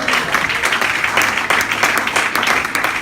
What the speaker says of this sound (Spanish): ¿Cuánto damos un fuerte aplauso a Dios?